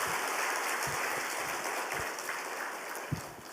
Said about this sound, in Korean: 우리 유년부 교사들과 또 우리 어린이들을 위해서 격려의 박수 한번 하겠습니다